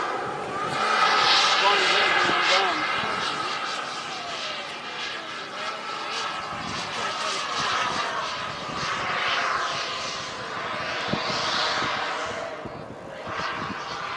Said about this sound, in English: with a slow overhead flyby